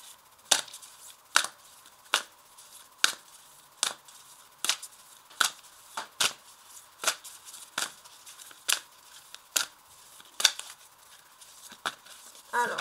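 Tarot cards are shuffled and drawn, giving about a dozen crisp, sharp riffling snaps spaced roughly a second apart, close and clear over a quiet background with no talking.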